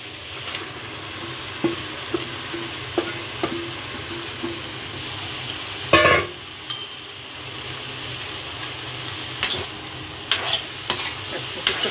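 Ker sangri is tipped into oily, cooked masala in a pan, giving a steady sizzle with a sharp crackling burst midway and scattered clinks of a spoon stirring against the metal.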